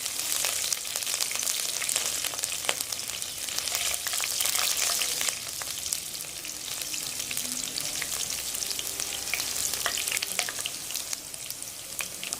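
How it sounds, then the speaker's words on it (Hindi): Green chillies and cumin seeds fry steadily in hot oil, a dense continuous sizzle with scattered sharp pops and crackles throughout, close and loud, with no talking. "3 हरी मिर्ची डालते हैं और इसको खूब फ्राई"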